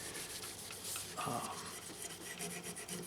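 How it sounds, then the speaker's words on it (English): A white Scotch-Brite pad soaked in mineral spirits scrubs an old Guild D-50SB acoustic guitar, giving soft, close rasping rubs in quick irregular strokes with no talk. "get some mineral spirits out with another fresh piece of this white Scotch-Brite"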